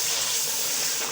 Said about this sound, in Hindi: अब इसको अच्छी तरह से भून लेंगे।